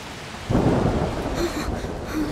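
Thunderstorm with rain in the video game A Plague Tale: Requiem: a steady rain hiss swells as a low rolling rumble of thunder breaks in about halfway and carries through to the end, close and fairly loud.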